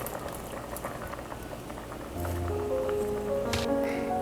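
Soup with kidney beans simmering in a pot, a steady soft bubbling and patter that grows slightly louder partway through, with faint clinks near the end.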